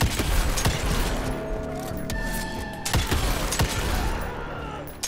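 Video game gunfire in bursts, sharp repeated shots at irregular intervals over a busy game soundtrack with ringing tones.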